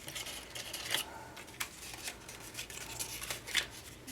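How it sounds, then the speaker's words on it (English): A bone folder pressed and dragged along a crease in folded cardstock for a small pizza-box craft, giving faint, close scraping strokes with a few sharper crisp clicks, quiet and alone. "then I'll go back in there with the bone folder to reinforce that crease"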